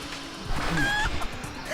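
A chicken clucks in the Xbox One video game Guacamelee, with short bird calls over a busy bed of game sounds and music.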